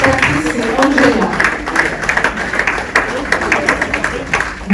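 An audience claps after a stage show put on by vocational trainees, rapid scattered applause running throughout beneath a speaking voice that dominates the mix.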